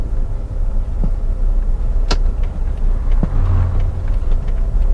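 A car pulls away on the clutch alone without gas, giving a steady low engine rumble close by with a few faint knocks and clicks.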